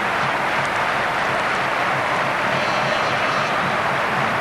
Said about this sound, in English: Crowd now, the bands are playing, the flags are waving, they're clapping